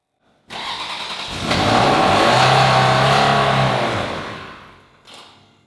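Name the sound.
Ferrari 360 Spider engine starting and stalling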